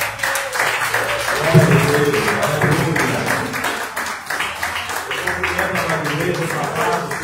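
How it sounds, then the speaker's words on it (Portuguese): Pentecostal church congregation clapping along joyfully during a worship service, a steady dense patter of many hands with singing and voices mixed in throughout. "as palmas bem alegres para o Senhor"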